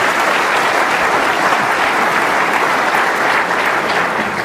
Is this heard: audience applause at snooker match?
yes